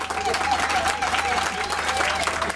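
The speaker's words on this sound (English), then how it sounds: "Colleagues, it requires a round of applause." Applause from colleagues at a university sod-turning ceremony for the Unisa Sunnyside development projects, brief and fairly even, with a faint tonal hum and some voices beneath the clapping.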